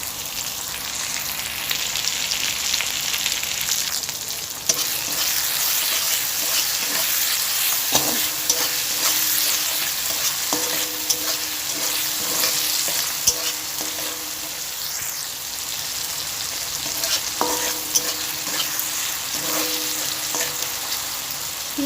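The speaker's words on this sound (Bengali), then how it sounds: "এখানে পেঁয়াজটা একটু ভাজা ভাজা হয়ে গিয়েছে" Katla fish head and onion fry in hot oil in a pan, a continuous close sizzle broken by scattered clicks and scrapes of a spatula stirring, with no talking.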